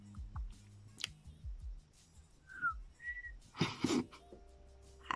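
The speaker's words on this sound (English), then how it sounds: "I can't whistle. I can't whistle to save my life." A failed attempt at whistling, heard as two short, thin breathy tones and a burst of airy hiss near the end, fairly faint and close by, with no speech over it.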